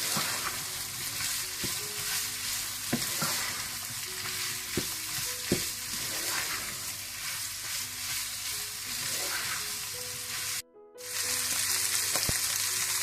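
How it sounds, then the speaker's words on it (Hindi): Mushrooms and bell peppers added to chicken fry in a pan with a steady loud sizzle, occasional stirring clicks against the pan, and a brief dropout near the end. "आप इसमें मशरूम्स और शिमला मिर्चें डाल दें। इनको भी आप अच्छी तरह थोड़ी देर के लिए भून लें।"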